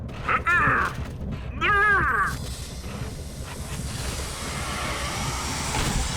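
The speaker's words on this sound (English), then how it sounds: "Take a train, see the sights." A train rumbles and clatters along its rails with a steady hiss of wind noise; high whistling tones sweep briefly near the start.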